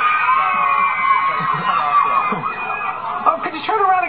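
A crowd of fans screams and cheers continuously, with children's shouts and whoops layered into a loud, sustained roar at an event where a singer runs alongside them.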